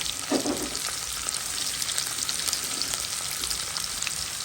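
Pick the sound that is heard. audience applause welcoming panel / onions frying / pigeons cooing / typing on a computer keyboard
onions frying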